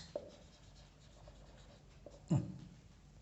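Chalk or a marker taps and scratches on a classroom board during a mathematics lecture, soft and close, with a sharper knock near the end and no talk.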